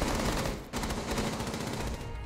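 Teammates fire in Rainbow Six Siege, producing continuous rapid automatic gunfire that is dense and steady for about two seconds, with a brief dip partway through.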